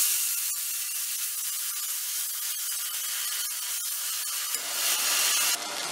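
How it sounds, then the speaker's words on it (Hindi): Ground tomatoes hit a hot pan of sizzling crushed garlic and ginger, giving a steady loud hiss that swells into a brighter spray of sizzle near the end. "अब इसके अंदर ये पिसे हुए टमाटर डालेंगे"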